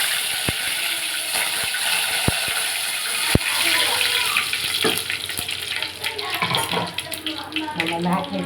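Mustard seeds splutter in a tablespoon of hot oil for a fish curry, giving a few sharp, scattered pops over a steady loud sizzling hiss that continues throughout.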